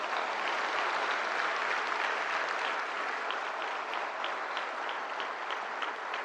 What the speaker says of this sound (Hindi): दिव्यांग के हमारे जितने अवॉर्डीज हैं उनके लिए जोरदार तालियां